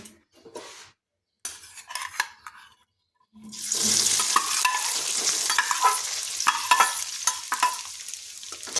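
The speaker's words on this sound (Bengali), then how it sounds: "এই তেলে ছেড়ে দিচ্ছি ম্যারিনেট করে রাখা সোয়াবিন" Marinated soya chunks drop into hot oil in a pan: a few scattered clinks and scrapes, then a sudden loud, continuous sizzle and crackle of frying up close.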